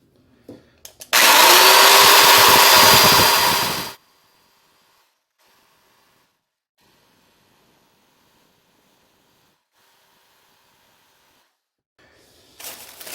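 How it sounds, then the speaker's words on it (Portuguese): A threaded rod end for a Prusa Mendel printer frame is polished to remove burrs, a loud rotary whirring grind that runs for about three seconds then stops abruptly, followed by near silence and a brief restart at the end. "vou dar uma polida nas pontas para tirar as rebarbas"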